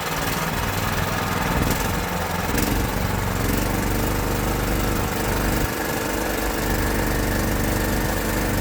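A Predator 420 engine swapped into a cheap Hisun UTV runs steadily on a road test in high range, its dirty carburetor leaving it short of full power; the loud, continuous engine drone holds close and even throughout with no talking.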